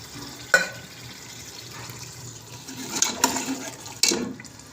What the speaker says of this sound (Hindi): और उसमें अब आप 2 गिलास 3 गिलास जितना भी चाहें पानी डाल देंगे